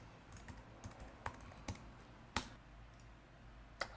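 Quiet, close-up computer keyboard typing mixed with mouse clicks, a sparse run of sharp individual taps and clicks with short pauses between them.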